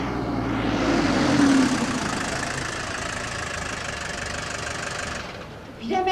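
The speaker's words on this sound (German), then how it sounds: "Ich höre ein Auto." A Mercedes car engine runs with a steady, rough rumble and slight knocking, loud and continuous for about five seconds before it cuts off, followed by a brief other sound.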